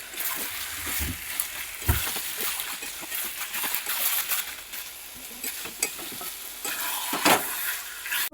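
Chicken being stirred and fried in a pan, a dense, continuous sizzle broken by repeated scraping and splattering bursts, fairly close, with no clear speech.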